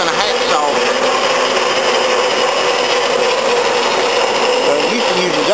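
Harbor Freight band saw cutting: a loud, continuous grinding whine of the blade through material, steady and close throughout with a slight shift in pitch at the start.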